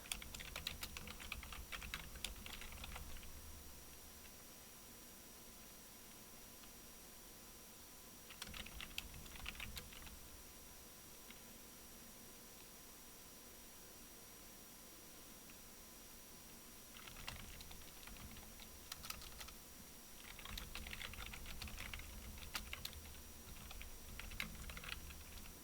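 Quiet computer keyboard typing comes in short bursts of rapid key clicks, separated by pauses of near silence.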